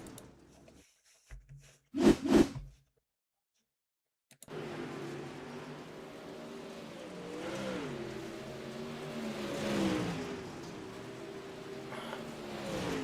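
A dirt late model race car strikes the outside wall, giving a sharp crunching impact, then after a short gap the engine drones steadily on, rising and falling as the car moves.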